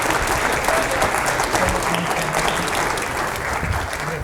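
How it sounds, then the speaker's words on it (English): A crowd applauds continuously, a dense and fairly loud patter of clapping with a faint murmur of voices underneath. "Huge round of applause."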